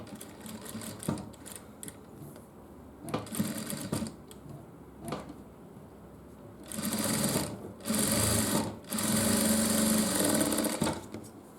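An industrial-style sewing machine stitches a women's waistcoat in short bursts of rapid mechanical chatter, with pauses between, then longer loud runs near the end, heard up close without talking.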